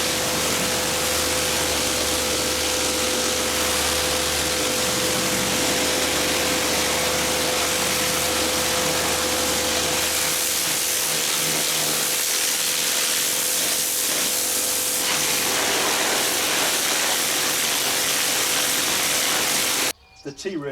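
Karcher K7 Premium Smart Control pressure washer with T-Racer surface cleaner scrubbing a patio, a loud steady hissing spray with constant motor hum lasting throughout, cutting off abruptly at the end, with a voice talking over it.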